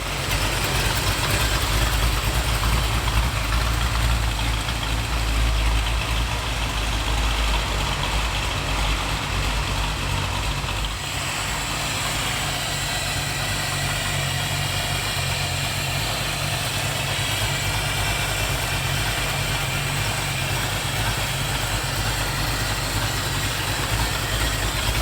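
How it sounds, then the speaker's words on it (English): A 1932 Ford Bebop Highboy hot rod with a Detroit locker and new Michelin tires cruises along, its engine a steady, loud rumble with continuous road and wind noise throughout. "now we're cruising in the 1932 Ford Bebop Highboy"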